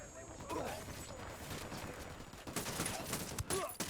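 Gunfire in Ghost Recon Wildlands: scattered bursts of shots crackle fairly faintly amid battlefield noise, growing busier toward the end, with voices shouting over the fighting.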